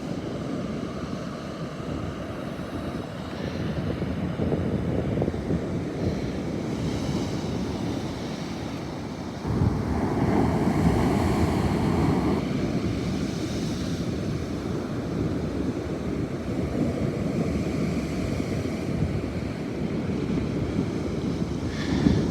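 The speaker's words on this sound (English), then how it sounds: "I'm just going to be quiet and let you guys listen to the waves here for a minute" Ocean surf on the southern Oregon coast rolls in a continuous wash with wind noise, swelling louder partway through as a wave breaks, no voices over it.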